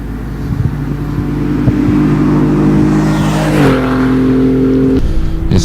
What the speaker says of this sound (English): Cameron Langley taking off from the line in the BMW